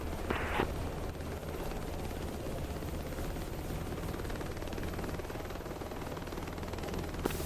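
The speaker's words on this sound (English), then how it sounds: "looks like friendly AI UH-60 landing in AO" A friendly AI-controlled UH-60 helicopter landing in a video game combat zone, its steady rotor and engine roar filling the whole stretch at an even, continuous level, with a brief higher tone near the start.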